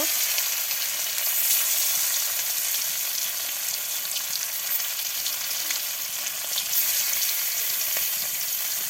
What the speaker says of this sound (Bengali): হলুদ লবণ মরিচ দিয়ে মেখে রাখা মাছগুলো গরম চালে দিয়ে দিল